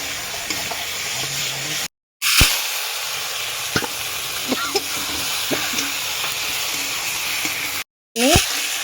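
Chicken fries in a pan with a continuous hissing sizzle, broken by occasional utensil clinks and scrapes and two brief silent cuts.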